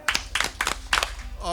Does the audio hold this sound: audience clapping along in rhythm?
yes